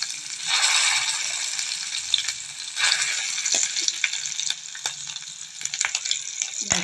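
Wet ground masala paste, added after whole spices, sizzles and crackles steadily in hot oil for chole, with a loud dense hiss broken by sharp pops and occasional utensil clinks, close up and without speech.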